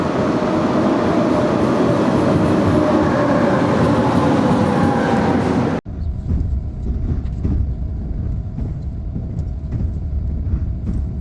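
A Seoul subway train roars loudly into Seoul Station with a dense rushing rumble. The sound then cuts to the quieter interior hum of the carriage, with faint clicks over the rails.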